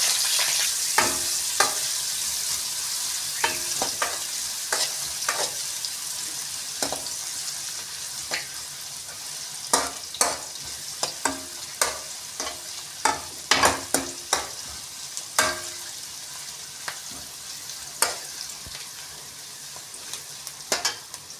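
Onions tossed into hot oil with garlic and curry leaves, a bright steady sizzle broken by sharp, intermittent scrapes and taps of a spoon against the pan.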